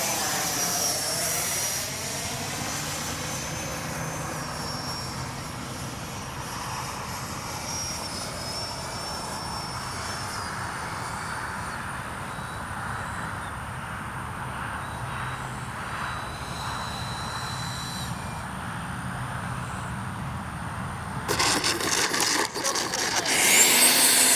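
A Freewing Yak 130 70mm EDF RC jet makes a speed run, its ducted-fan whine holding steady and shifting in pitch as it passes, growing louder near the end.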